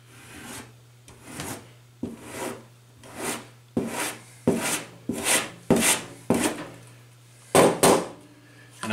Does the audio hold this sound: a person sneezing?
no